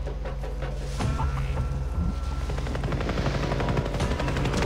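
Helicopter in the video game Far Cry 3, a steady rapid rotor thudding with a constant engine drone, close and continuous, with a few sharp gunfire-like cracks scattered through it.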